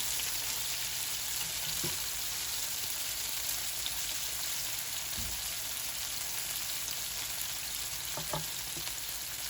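Shallots fry in a pan for a frittata with a steady, fairly quiet sizzle all the way through, broken by a few soft thuds and clinks of the pan; no one speaks.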